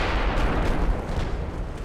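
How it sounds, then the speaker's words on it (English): Heavy booming blasts from torpedo hits and an ammunition detonation aboard a German warship in the Ultimate Admiral Dreadnoughts naval game, forming a loud, continuous rumbling roar with no gaps. "Takes more than a couple of measly torpedoes and an ammo detonation to take us out."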